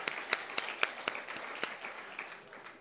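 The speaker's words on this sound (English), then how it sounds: "So here's a round of applause for you." Applause from an audience at an Anderson Ranch arts event: scattered, moderately distant clapping with a few sharper individual claps, thinning out toward the end.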